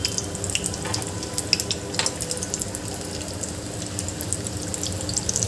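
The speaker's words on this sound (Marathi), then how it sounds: "आता याला मी आलटून पलटून छान खरपूस तळून घेते" Batata vada frying in hot oil give off a steady, bubbly sizzle, with a few brief clinks and scrapes as the fritters are turned, close by and without speech.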